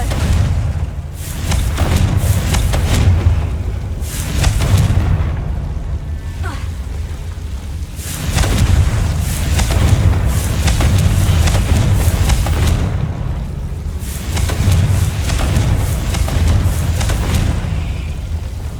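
Repeated Confringo spell blasts in Hogwarts Legacy, deep booming explosions arriving in several heavy waves a few seconds apart, loud and close with rumbling tails between them.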